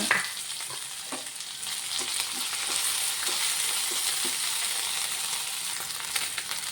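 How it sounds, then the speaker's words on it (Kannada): Curry leaves with crushed ginger and garlic frying in hot oil in a pan for a capsicum dish: a steady, dense sizzle that holds evenly throughout, close and fairly loud, with faint stirring ticks and no talking. "ಈಗ ಕರಿಬೇವು ಅದರ ಹಿಂದೆ ಶುಂಠಿ ಬೆಳ್ಳುಳ್ಳಿ ಜಜ್ಜಿಟ್ಟಿದ್ದೀವಿ ಅದನ್ನು ಹಾಕೋಣ"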